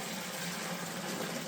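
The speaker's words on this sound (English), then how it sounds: "I'm going to just pour it into the mesh bag and into this bucket" Blackberry wine must is poured into a mesh bag set in a bucket, giving a steady, loud gushing splash of liquid that runs unbroken from start to end, with no voices.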